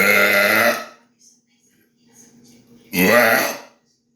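A loud, close human belch opens, then a short lull with faint voice-like sounds, and a second forceful burp of about the same length follows.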